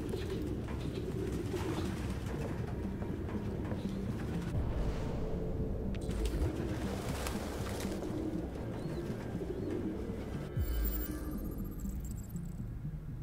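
Pigeons cooing in Detroit: Become Human, with soft repeated coos and fluttering from several birds close by over a steady ambient bed. A brief clatter comes near the end.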